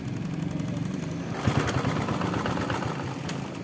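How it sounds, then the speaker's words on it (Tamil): TVS XL100 BS6 moped with a faulty engine temperature sensor starting up, the engine catching with a burst of sputtering and then settling into a steady, close idle. "வண்டி ஸ்டார்ட் ஆகுது."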